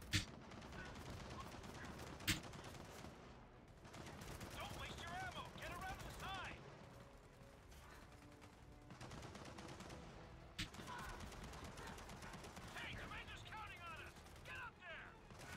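Bursts of machine gun fire in the shooter game Gears of War 4 come in several rapid volleys mixed with other game effects at a fairly low level.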